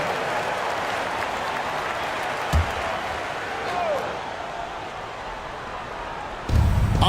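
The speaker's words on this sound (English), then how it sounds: "round of applause for the" Crowd applause fills an arena during a Warriors–Magic basketball game timeout, a steady wash of clapping and cheering with a brief thump and a commentator talking over it near the end.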